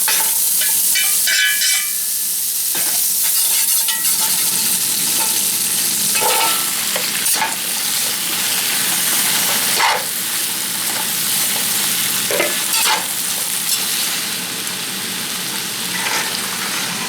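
Bacon frying in a pan while being stirred, a loud steady sizzle with scraping and clattering stirs scattered throughout, no voices.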